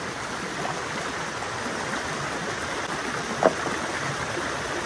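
A village river in the Konkan flows past in a steady, close rushing wash, with one brief splash or knock partway through and no one talking.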